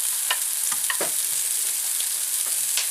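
Corned beef and onions fry in a pan with a steady, bright sizzle, broken by a few short scrapes and stirs near the start and middle, close and moderately loud with no talking.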